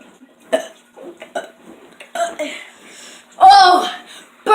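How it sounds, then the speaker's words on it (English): A child burps loudly several times in short bursts, the longest a drawn-out croaking belch near the end, mixed with chuckles, giggles and bits of speech. "burping! Burping's so cool!"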